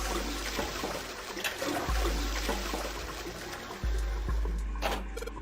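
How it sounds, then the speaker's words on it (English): Toilet flushing in the 999 puzzle game, a rushing, gurgling swirl of water with a few thumping surges, close and continuous, with no talk. "I heard a loud flushing noise."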